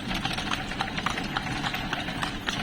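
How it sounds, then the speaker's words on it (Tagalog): Several horses on a street in Vigan, Ilocos Sur: a quick, steady clip-clop of hooves close by over a low engine-like hum. "Oh, dami kabayo."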